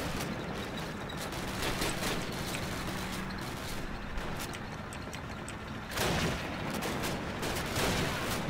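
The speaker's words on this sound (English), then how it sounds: "This MG42 asshole is getting on my nerves." MG42 machine gun fire rattles continuously in Call of Duty: United Offensive, a dense, steady barrage mixed with other battlefield gunfire and explosions, with a brief louder swell near the end.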